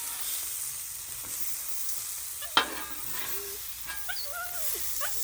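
Lobster tail and other seafood sizzle and hiss on a hot griddle, close and continuous, with a sharp scrape of a spatula and light clicks, no talk.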